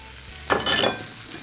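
Onions dumped into a hot pan with garlic, oregano and flour burst into a sudden loud hiss that peaks briefly, then settles into a softer, fading sizzle.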